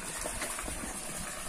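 Well water gushes steadily from a hose into a 1000-liter water tank on a farm, a continuous, fairly faint splashing rush with no talking.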